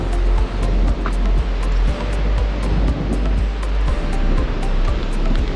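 Sea surf rolling onto the southern Swedish coast, a steady broadband wash of breaking waves that stays close and loud the whole time, with no voices.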